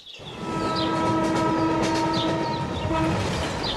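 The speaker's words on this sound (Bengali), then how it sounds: "ট্রেন যায় একেবারে ওদের বাংলোর সামনে দিয়ে" A train rumbles steadily past a bungalow close by, with a sustained horn or whistle tone sounding over the continuous rolling noise throughout.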